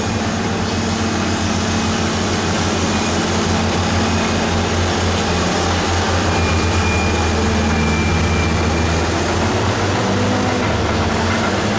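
A Caterpillar motor scraper's heavy engine drones continuously at close range, a loud low rumble with a steady mechanical roar and no voices.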